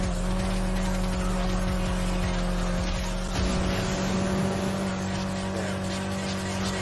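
A Mitsubishi Lancer racing car engine roars steadily in Need for Speed Heat on a straight downhill run, loud and continuous with a sustained droning tone and a brief shift in pitch midway.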